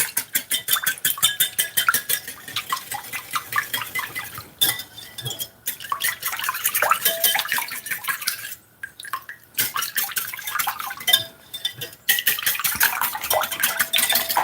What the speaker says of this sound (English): whisk the egg in.